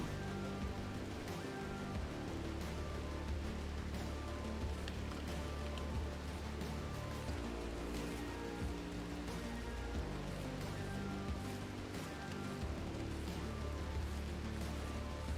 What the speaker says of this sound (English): The rain right now does suck a little bit.